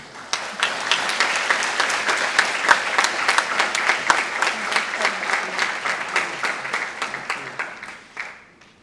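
Warm audience applause at a Model United Nations opening ceremony, dense steady clapping from a sizable crowd with distinct individual claps standing out, continuing for several seconds before tapering off.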